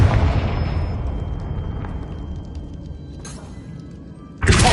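A Confringo spell explosion in the Hogwarts Legacy video game, a single loud blast with a long, fading rumble, then a short burst and a sharp new impact near the end, with no talking.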